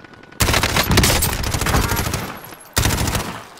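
Airstrike in Call of Duty: Warzone, loud dense blasts of rapid gunfire-like explosions rolling continuously for several seconds, with a sharp fresh burst near the end, no talking over it.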